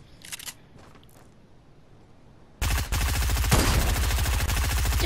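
An SMG fires in a video game: after a few quiet clicks and taps, loud, rapid automatic bursts begin abruptly and rattle on continuously to the end.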